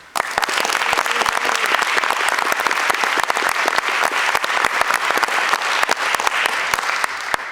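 Warm, sustained applause from an audience at a 9/11 Day of Remembrance event in Scottsdale, welcoming a speaker to the stage, with dense clapping filling the hall steadily and loudly throughout.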